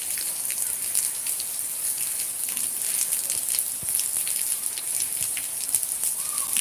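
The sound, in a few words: rain falling in Cabo Verde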